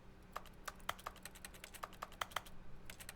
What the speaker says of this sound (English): Wait, I'm allowed to tap the glass? It sounds like I'm tapping on a keyboard, though.